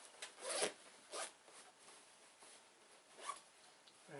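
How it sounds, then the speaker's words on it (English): The zipper on an insulated picnic bag is pulled open in several quiet, short rasping strokes with pauses between them, close up and alone. "so unzip the other section"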